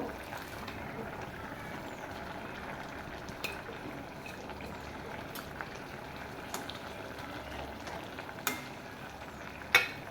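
Spinach, potato and brinjal cooking in a pan as they are stirred, a quiet, steady bubbling sizzle with soft scattered clicks of a spatula and a louder scrape just before the end.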